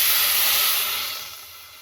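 A pot of water boils for cheese pasta, giving off a close, steady hiss of steam that slowly fades.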